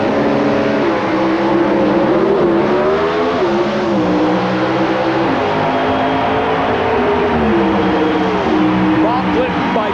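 Drag race cars roaring at the 1988 US Nationals semifinal, Bob Glidden's car racing: a loud, continuous engine howl with shifting harmonics throughout, under a commentator's voice.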